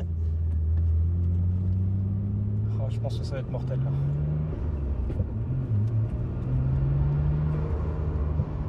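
A Nissan GT-R R34 engine revs in a roaring, rising tone, with repeated accelerations climbing in pitch over several seconds, close and loud, while someone talks over it inside the car.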